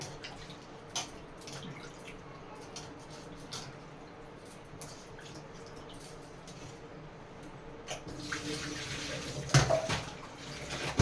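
Fish being washed clean in a pot of water with salt for a fish curry, a steady soft splashing and sloshing close by that grows louder with a few sharper splashes near the end.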